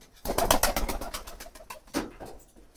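Domestic pigeons peck at loose soil, making a quick run of close, sharp taps and fluttering pulses that fade, then a short burst returns near the end.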